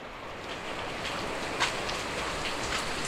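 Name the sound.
heavy rain pouring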